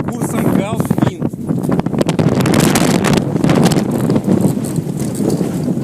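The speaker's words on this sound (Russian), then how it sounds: "Порыв сильный." Strong wind gust buffeting the microphone aboard a sailing yacht, a loud continuous roar with rushing surges, as people talk over it.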